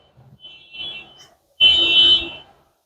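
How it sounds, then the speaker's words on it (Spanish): An electronic alarm much like a car alarm gives a short faint tone, then a louder sustained shrill buzz that stops after about a second, inside a church service setting. "mi carro tiene una alarma parecida a esa"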